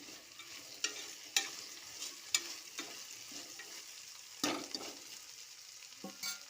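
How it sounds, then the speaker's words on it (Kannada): Vegetables for veg palav are stirred in a sizzling pan, a utensil scraping and clinking against the metal in several sharp strokes over a soft, steady frying hiss, with no voices. "ಚೆನ್ನಾಗಿ ತಿರುವಿ"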